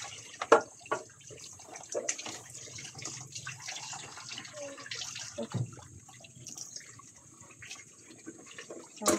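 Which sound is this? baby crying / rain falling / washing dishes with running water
washing dishes with running water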